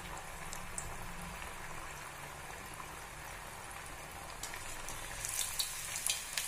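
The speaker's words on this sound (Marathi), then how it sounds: "आता आपण एक टिक्की घालून तळायला टाकूया." Carrot tikki deep-frying in hot oil, a steady soft sizzle and bubbling that runs throughout, with a few brighter crackles near the end.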